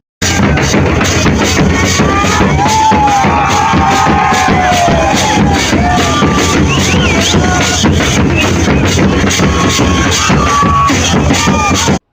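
A wedding crowd in Odisha at a Santhali ceremony cheering and shouting loudly after the couple's kiss, a dense, sustained roar of many voices with whoops and chatter, close and continuous throughout.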